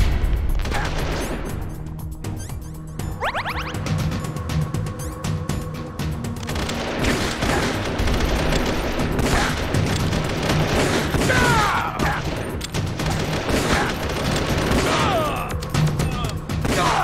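Dense, continuous gunfire and crashing from the video game Metal Gear Solid: The Twin Snakes, with bursts and booms layered over busy game music and effects throughout, steady and loud.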